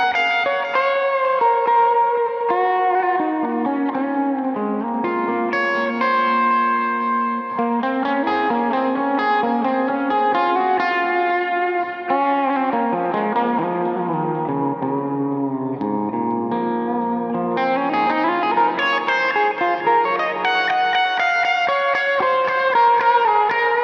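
An electric guitar played through ambient effects with reverb, chorus and echo, the tone control rolled fully down, sustaining shimmering chords and melodic lines continuously and loudly with no talking.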